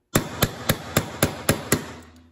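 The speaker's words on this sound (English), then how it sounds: "So using our 3mm punch and a hammer, we're gonna tap the 3mm roll pin through the shell deflector and the upper receiver." A steel hammer taps a 3mm roll pin through a punch into a rifle's shell deflector and upper receiver, seven sharp, evenly spaced metallic strikes, close and loud, with no talking.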